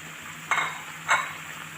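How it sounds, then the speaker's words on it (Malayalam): Butter chicken ingredients are stirred in a pan with two brief scraping strokes about half a second apart, quiet and close, with a faint background hum and no voices. "ഇതൊന്ന് ജസ്റ്റ് മിക്സ് ആക്കുക"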